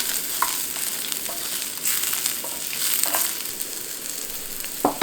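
Mushrooms fry and brown in a hot pan, giving a steady close sizzle with scattered crackles and small pops, alone without talk.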